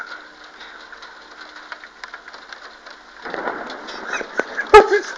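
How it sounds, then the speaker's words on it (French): A thunderstorm over Moulins drums steady rain on surfaces, building in intensity before a sharp, close thunderclap cracks near the end. "voilà ce que j'appelle un orage"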